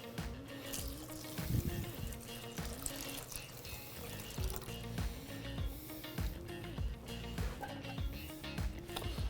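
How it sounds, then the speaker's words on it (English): Four cups of water pour into a pot of two cups of rinsed quinoa, a faint steady trickling and splashing over a quiet kitchen background. "We're gonna add to that 4 cups of water,"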